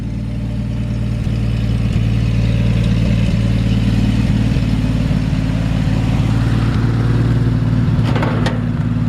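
A 1954 Chevrolet 235 engine idles steadily while still warming up on the choke, its idle slightly high. The low, even rumble is loud and close and runs unbroken from start to finish, with no voices.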